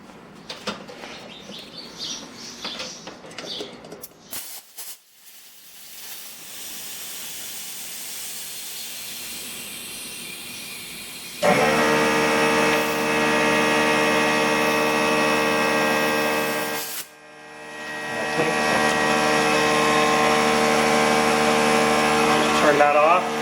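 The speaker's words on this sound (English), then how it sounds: "I can use my air compressor to pump this up." A home air compressor runs to inflate a tubeless bicycle tire and seat the bead on the rim, giving a loud steady hissing hum with harmonic whine, briefly cutting out and restarting, after early rustling and faint talk.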